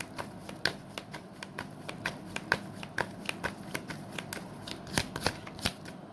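Tarot cards are shuffled and drawn up close, producing a quick series of sharp paper snaps and soft slides at an uneven rhythm, with no voices over them.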